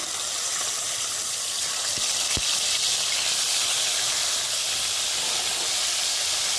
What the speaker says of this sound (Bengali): তেলটা খুব ভালো মতো গরম হয়ে গেছে তেল থেকে ধোঁয়া উঠছে ধোঁয়াটা গরম তেলে মাছগুলো দিয়ে দিচ্ছি